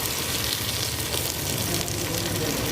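Okra (bhindi) frying in a pan, giving a steady, close, dense sizzle that carries on without a break and with no talking.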